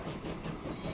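A freight train in the Transport Fever simulation game rolls along steadily, a continuous dense rumble of wheels and wagons with a faint high whine emerging near the end, no talk over it.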